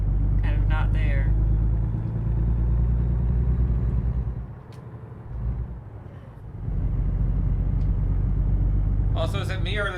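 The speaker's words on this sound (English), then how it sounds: "is it me or does this truck sound bassier?" A truck in a Truck Simulator video game gives a deep, steady engine rumble that dips briefly midway before returning, with someone talking over it.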